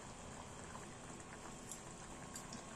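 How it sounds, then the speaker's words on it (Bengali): Pieces of pointed gourd simmer in sugar syrup with a soft, steady bubbling that stays quiet and continuous, with no one speaking. "এই পটলটা চিনির রসেতে চাশনির মধ্যে 10 মিনিট ঠিক ফুটিয়ে নিতে হবে"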